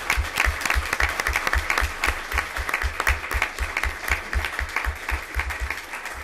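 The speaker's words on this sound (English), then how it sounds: "So let's give the students one last round of applause." An audience at a school board meeting applauds students, a full, sustained spread of clapping with a strong rhythmic pulse running through it, steady throughout.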